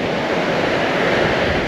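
Ocean surf washes steadily on a windy beach during a surf-fishing trip, a loud continuous roar of breaking waves mixed with wind buffeting the microphone.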